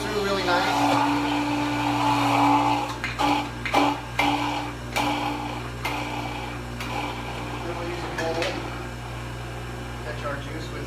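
Juicer working through carrots and greens: a continuous motorized whir with grinding and occasional clunks, heard under a person talking.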